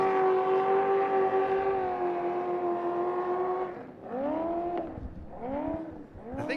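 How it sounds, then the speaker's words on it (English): A loud, high-pitched race truck engine whine through 180-degree headers at the Mint 400 off-road race holds a steady tone, then revs up and down in several quick swooping bursts near the end. "Just listen to the engine note of the Eisenhower car."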